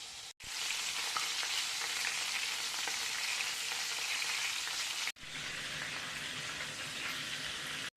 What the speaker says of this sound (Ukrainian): На сковороді з усіх сторін до рум'яності буду обсмажувати м'ясо на великому вогні